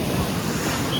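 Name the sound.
sea waves at high tide on Digha beach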